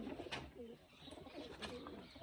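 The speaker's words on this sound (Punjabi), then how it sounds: "ਇਹ ਕਬੂਤਰ ਹੈ ਕਬੂਤਰ ਹੈ ਸਾਰੇ ਕਬੂਤਰ" Pigeons coo softly and repeatedly, faint and a little distant, with low throaty calls amid light background noise.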